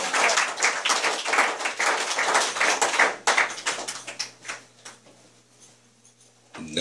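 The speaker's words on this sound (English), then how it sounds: "The round of applause, hallelujah." Church congregation giving a round of applause, loud crowded clapping at first that thins into scattered individual claps and fades toward quiet, with a brief burst at the end.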